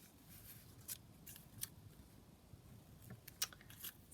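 Scissors trim paper ephemera for a junk journal, a few quiet, scattered snips with short gaps between them, close and soft with no talking.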